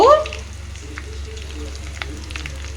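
Ingredients frying in a pan for a poha mixture, a steady soft sizzle and crackle throughout with a brief clink at the start.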